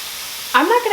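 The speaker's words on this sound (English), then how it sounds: "Hear the sizzle." Rice and onions hit a hot pan and start sizzling abruptly and loudly after a brief quiet start.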